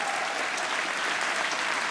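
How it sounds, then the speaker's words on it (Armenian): An audience at the Anahit film awards ceremony claps for three actors: dense, steady applause from a large crowd at even loudness throughout, with no pauses or voices standing out. "ծափահարենք 3 հիանալի դերասաններին"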